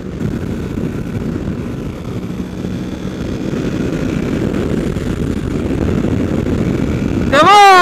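A new motorcycle's engine droning steadily and building slightly as the rider opens the throttle, with a sharp rising whine bursting in at the very end.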